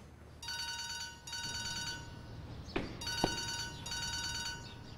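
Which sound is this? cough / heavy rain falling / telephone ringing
telephone ringing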